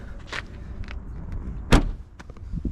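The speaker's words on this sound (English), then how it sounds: "Beautiful trunk shut noise." The trunk lid of a 1991 Mercedes-Benz 500SL closes with a single firm, solid thud midway, set among faint handling clicks and light background noise.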